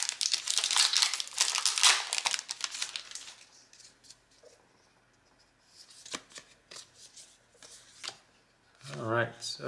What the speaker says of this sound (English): Oops, we're dropping cards here.